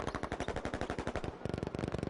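Rapid automatic gunfire during a competitive first-person shooter esports match, two long bursts of rattling shots with a brief gap between them, loud and continuous, no voices.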